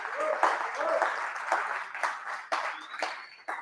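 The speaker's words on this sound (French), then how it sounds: "d'applaudir très très fort les sponsors grâce à qui cet événement est possible" An audience at a French conference on human permaculture applauds the event's sponsors, a dense, sustained clapping that continues beneath a voice speaking over it.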